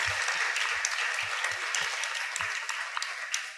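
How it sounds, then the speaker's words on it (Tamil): An audience at a Tamil Srimad Bhagavatam discourse applauds, steady close clapping filling the room and continuing throughout, with a few sharper claps standing out. "பெரிய கரகோஷம்"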